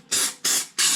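Three short bursts of activator spray from an aerosol can, coating polycarbonate before hydrodipping, each hiss evenly spaced, close and loud.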